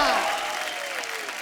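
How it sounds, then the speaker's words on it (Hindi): Studio audience at a comedy talk show clapping together in a broad, steady wash, with a sliding musical tone and voices running over it. "चलो जी, तालियां बजाओ।"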